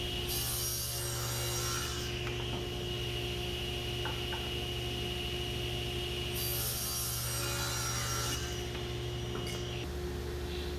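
Wooden boards being ripped to width on a woodworking saw, a steady close motor drone with several bursts of blade cutting through the wood, no talking.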